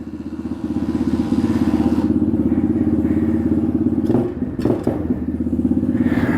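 An Orion 125XL street-legal pit bike engine fires up after a kickstart and idles loudly and close, a steady rough putter with a brief dip and revving midway.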